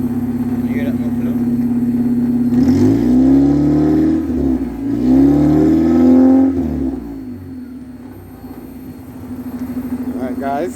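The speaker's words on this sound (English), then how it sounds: "Can you hear that muffler?" A 1992–95 Honda Civic EG with its muffler removed revs hard twice in loud, raspy bursts over a steady, droning idle, then settles back to a throaty idle; a voice speaks briefly during the revs.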